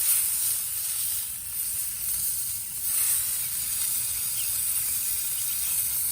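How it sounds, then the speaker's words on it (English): Tri-tip steak searing on a cast-iron surface inside a Big Green Egg gives a steady, close sizzle and hiss with no pauses, and the level holds nearly even throughout. "I'm pushing down the edges here onto the cast iron so that it will get an even sear all over"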